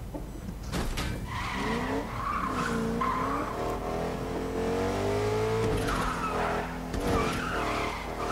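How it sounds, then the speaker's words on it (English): Truck doing donuts in the Fortnite video game, with loud, continuous tire skidding and squealing over a revving engine, sustained and close throughout. "I've been trying to donut the truck and the truck doesn't donut well"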